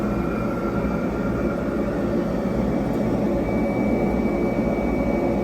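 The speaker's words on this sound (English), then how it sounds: "So I turn my filter box on, and then I hit start, and we are ready to go." An Aeon MIRA 9 laser cutter runs with its filter box switched on, producing a constant, even rumbling hum at a steady level throughout, with no talking.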